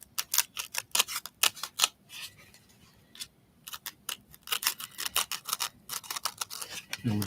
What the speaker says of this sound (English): Okay, so I'm just going to cut through.